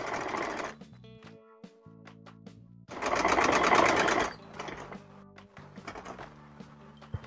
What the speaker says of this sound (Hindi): यहाँ से हम पूरे में सिलाई ले जाएंगे